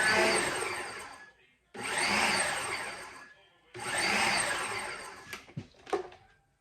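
A food processor pulses through cauliflower in three loud bursts separated by short pauses, its whirring motor and chopping blade close up, then a few clattering knocks after the last pulse.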